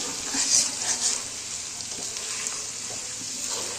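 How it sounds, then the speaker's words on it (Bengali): Garlic fries in well-heated mustard oil at the start of a sour-sweet roselle fruit pickle, giving a soft, even hiss that swells briefly near the start, then settles into a faint, steady sizzle. "রসুনটা একটু ভেজে নেব ভাজা ভাজা করে"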